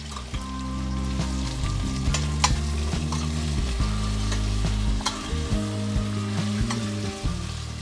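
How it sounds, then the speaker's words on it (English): Chopped onions saute in sage-scented oil in a pan, giving a steady close sizzle and frying hiss with stirring scrapes throughout. "we're gonna go ahead and put our onions in so that they can start to saute."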